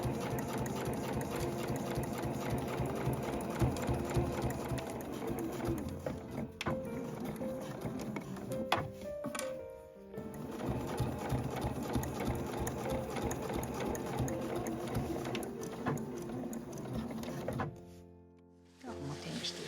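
A home sewing machine stitches the side seams of a canvas zippered two-way tote bag, a close, rapid rhythmic chatter with brief pauses and a short stop near the end.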